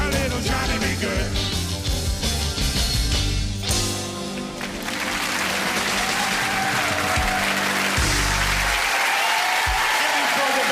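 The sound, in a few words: audience applause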